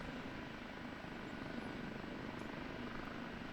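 An OH-58D Kiowa Warrior helicopter lifts off in the DCS flight simulator, its turbine and rotor making a steady, dense, quiet whine and whir throughout with no talking.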